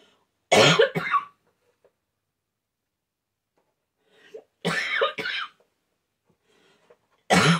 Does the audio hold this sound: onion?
no